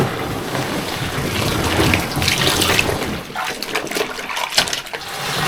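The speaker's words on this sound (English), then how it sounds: "I'm going to run some warm water into the bath" Warm water runs from a tap into a bath for cleaning a drysuit, a steady splashing rush with brighter trickles and bubbling near the end, close and alone.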